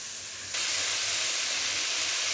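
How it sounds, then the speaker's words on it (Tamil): Potato, onion, tomato, beans and carrot sauté in a pan for rava kichadi, giving a steady, close hiss and sizzle that swells abruptly after a brief quieter start and then holds evenly. "இப்போது உருளைக்கிழங்கு, வெங்காயம், தக்காளி, பீன்ஸ், கேரட் எல்லாமே சேர்த்தாச்சு, வதங்கிட்டுருக்கு."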